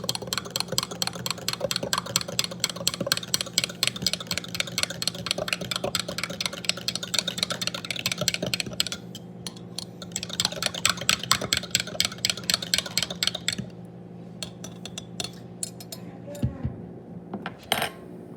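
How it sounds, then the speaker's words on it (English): Milk and yeast are stirred together in a bowl for cinnamon roll dough, a utensil clinking and scraping against the bowl in quick, steady repeated strokes, close by, with a brief pause partway through. "once the top of your milk and yeast get foamy, then give it a good mix"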